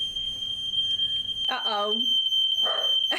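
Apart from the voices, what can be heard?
smoke alarm going off in a kitchen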